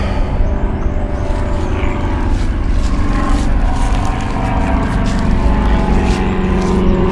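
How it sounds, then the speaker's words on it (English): A propeller airplane passes overhead in rural Arkansas, a loud, continuous engine drone that holds steady for several seconds with no speech. "Always with the planes."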